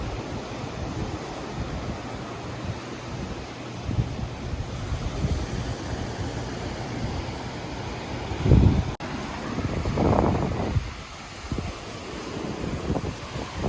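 Ocean waves roll and wash ashore at a beach resort at night, a continuous broad surf roar with wind buffeting the microphone and a few louder surges as waves break.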